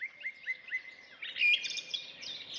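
Birds chirp and trill in a short, bright run, starting with evenly spaced tweets and swelling into a denser, louder warble near the end, heard alone without voices.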